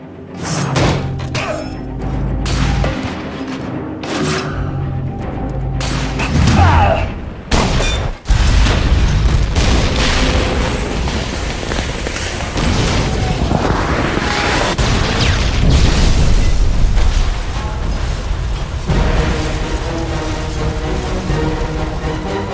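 Heavy explosions and booming crashes roll on without pause as a tower collapses in the Captain America: Super Soldier game on Xbox 360, loud and dense, with gunfire-like bursts and rumbling thuds throughout.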